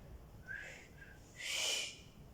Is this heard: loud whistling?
yes